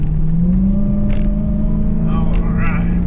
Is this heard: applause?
no